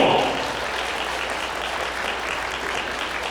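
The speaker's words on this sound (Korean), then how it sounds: "신랑 신부 만점 박수로 넘겨주세요" Wedding guests in a hotel grand ballroom applauding the bride and groom, a continuous moderately loud wash of clapping that starts slightly stronger and holds evenly throughout.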